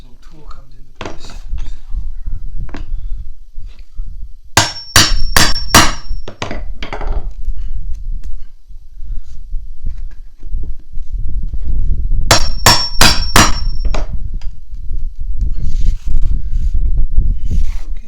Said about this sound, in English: I just use a hammer and I hit it against the edge of the board